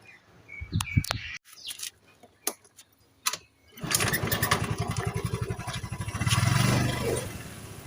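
A motorcycle with no battery fitted is kicked a few times with sharp clicks and pauses, then fires up at once into a steady, rapid idle putter close by, revving briefly near the end.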